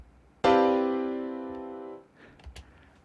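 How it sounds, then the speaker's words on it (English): A single major 13 chord built from C with stacked thirds, strummed once on guitar, rings out loud and close with rich sustained harmonics for about a second and a half before being damped, followed by faint handling noise. "We call that a major 13 chord."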